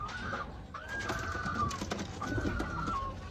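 Pigeons kept in a loft give faint, rising and falling calls, about three drawn-out tones spaced across a few seconds, over a soft background hiss.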